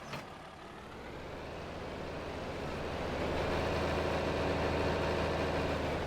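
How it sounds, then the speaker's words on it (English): A heavy tractor with a front loader idles in a video game, a deep steady drone that grows slightly louder and richer partway through. "it is still a loud tractor"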